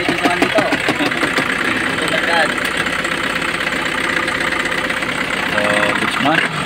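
A Hyundai County minibus engine idles in a steady, slightly knocking mid-pitched rumble, close by and continuous, with people talking over it.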